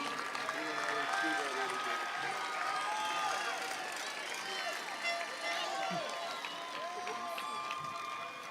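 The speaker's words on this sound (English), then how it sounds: "A big applause as they come in" Crowd noise with clapping and cheering as graduates file into a high school commencement ceremony, a steady wash of sound running the whole time with voices mixed in.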